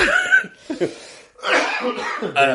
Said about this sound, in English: You made me cough.